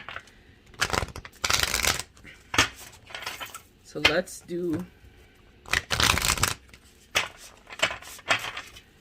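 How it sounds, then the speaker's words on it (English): Tarot cards are shuffled on the side of a desk in repeated bursts of riffling and slapping, close and fairly loud, with brief speech between shuffles. "let me shuffle this. I'm gonna shuffle it here on the side of my desk"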